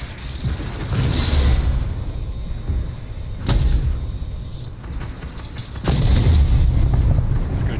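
Tank cannon fire in Armored Warfare, with a sharp, loud gun report over rumbling engine and battle noise, and several heavy booms spaced a few seconds apart.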